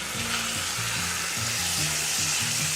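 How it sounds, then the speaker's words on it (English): Steady, loud sizzling of meat searing in a hot enamel Dutch oven, a continuous crackling hiss with a low rhythmic scraping underneath. "You can hear that just amazing sizzle."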